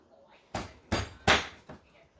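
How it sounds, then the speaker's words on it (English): Four sharp, close knocks as a knife chops through a sweet potato and strikes the cutting board, evenly spaced and growing slightly louder, in a quiet kitchen. "So what I'm going to do is cut it in half first."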